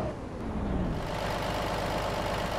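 Vehicle engine in the video game DayZ, a low steady idling rumble after parking, continuous and fairly close.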